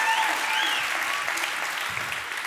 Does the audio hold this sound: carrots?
no